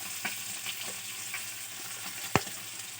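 Onion, garlic and dried chili frying in a little oil in a home kitchen, a steady soft sizzle with a few stirring clinks and one sharp knock near the end, no voices.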